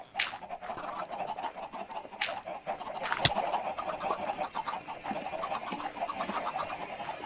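Chickens clucking in Minecraft: repeated short clucks and squawks from several birds over a steady ambient background, moderately close and continuous, without speech.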